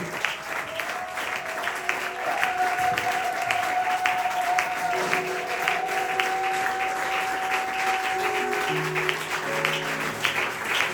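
A church congregation at a youth service applauds and cheers: sustained clapping and crowd noise at moderate level, with sustained tones from music or voices running through it.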